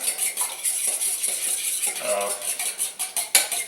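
A fork or whisk beats eggs in a bowl with rapid, rhythmic metallic clinks and scrapes, close and fairly loud, continuing without a break.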